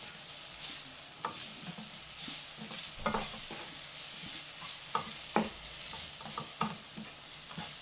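Masala spiced with garam masala is stirred in a hot pan for egg macaroni, with a continuous hissing sizzle and repeated scraping and knocking strokes of the spoon, no voices.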